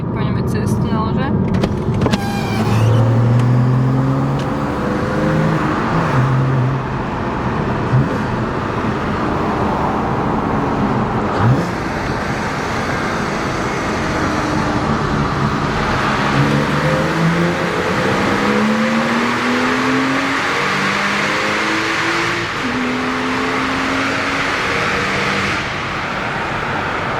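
Car engine roaring through a road tunnel with the windows rolled down, a steady loud drone with rising and falling engine tones and wind rush, while people talk over it.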